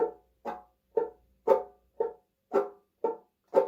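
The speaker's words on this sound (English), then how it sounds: "So all I'm doing, I'm hitting it with the thumb and I'm flicking it with my fingers." A banjo ukulele gets a muted strum, a thumb hit alternating with a finger flick, producing eight short, dry, evenly spaced plucks at a steady two-beat rhythm, close and clear with nothing else heard.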